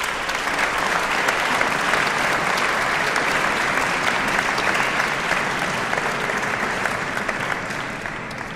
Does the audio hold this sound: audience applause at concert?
yes